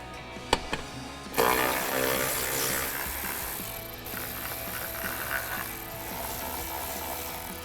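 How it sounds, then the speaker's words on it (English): A ratchet backs out the three 8mm bolts of the back panel on a Jeep Wrangler JL, giving a couple of sharp clicks and then a steady run of rapid close ratcheting that drops to faint, scattered clicks. "we're going to take our 3 8mm bolts out with our ratchet"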